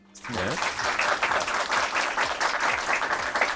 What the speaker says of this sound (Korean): 두 분께 우리가 다시 한번 수고하셨다고 우리가 박수 한번 보내드리면 어떻게?